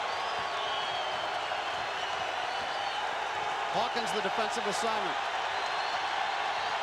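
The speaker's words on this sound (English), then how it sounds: "Crowd in a frenzy at Hilton Coliseum." College basketball crowd at Hilton Coliseum, Iowa State hosting Oklahoma State in 2000, roaring and applauding as a steady wash of arena noise under a commentator's voice, with sneaker squeaks rising briefly midway.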